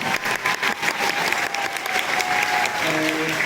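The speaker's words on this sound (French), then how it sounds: "je vous laisse applaudir, pardon." Audience at a Walibi theme park pass event for 2026 breaks into sustained applause, dense steady clapping filling the room throughout, with faint voices mixed in beneath it.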